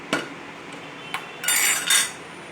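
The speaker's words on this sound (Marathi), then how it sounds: "एक चमचाभर तूप घ्यायचंय." A metal spoon scooping Amul ghee clinks against a pot in a few sharp, close knocks, followed by a short scraping rattle, in an otherwise quiet kitchen.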